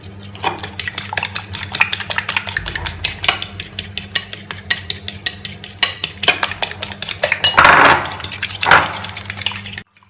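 A utensil stirs spices in a bowl for a no-oven potato, cheese and hotdog bake, giving rapid repeated clinks and scrapes against the bowl, close and loud over a low steady hum, with no talk.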